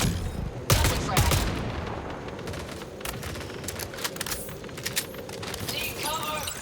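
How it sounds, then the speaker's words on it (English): A frag grenade bursts in the video game Marathon, with two sharp, loud blasts early on, followed by a steady stream of rapid gunfire crackle and scattered impacts. "Tossing frag."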